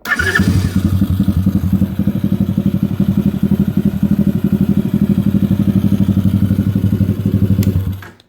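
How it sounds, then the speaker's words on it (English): A custom Honda ATC 70 engine fires up and idles with a rapid, steady, close putter. It runs loudly for about eight seconds and then cuts off abruptly. "All you got to do to start it, turn the key, press the secret button that we're not telling anybody about."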